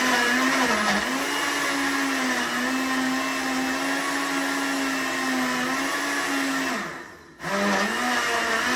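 An electric blender chops plantain for Jamaican plantain porridge, a loud steady motor whine that holds evenly, briefly drops and cuts out near the end, then spins back up.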